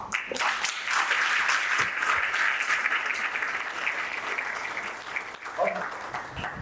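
An awards ceremony crowd breaks into applause, a broad sustained clapping wash that swells early, holds, then thins toward the end, with a voice rising over it near the close.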